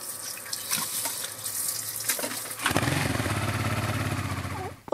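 Water spraying from a Flextail Tiny portable shower at a campsite, a sputtering start that turns into a steady hiss of spray before cutting off abruptly.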